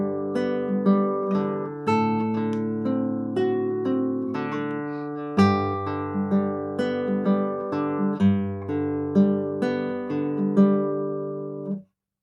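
A solo guitar plays a fingerpicked arpeggio pattern from a song, clear close plucked notes rolling evenly through several chord changes for about twelve seconds, alone with no voice.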